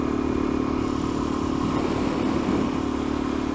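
A Suzuki DR-Z motorcycle being ridden on a cold road, its engine droning steadily and loudly close by with wind rush and no speech.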